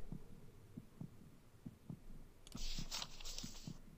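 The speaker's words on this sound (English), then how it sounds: "Why do I hear heartbeats?" Steady thumping heartbeat in the horror video game The House 2, faint, low double beats repeating evenly while a hum and a brighter eerie tone enter partway through.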